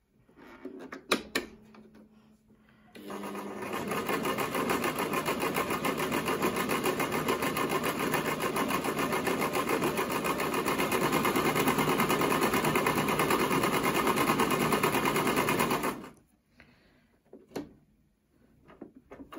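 A Brother XL-5600 household sewing machine stitches a decorative pattern, a steady fast motor whir with rapid needle clatter running for about thirteen seconds after a few clicks, then stopping abruptly with a couple of handling knocks.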